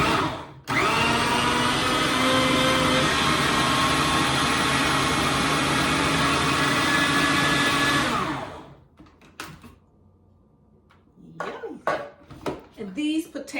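A blender whirs loudly and steadily for about eight seconds, pureeing cooked sweet potatoes for sweet potato pie, then cuts off, followed by light clinks and handling noises.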